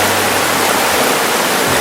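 An outdoor river pours past in a steady, loud rush of broadband water noise that holds unchanged throughout, with no other sounds above it.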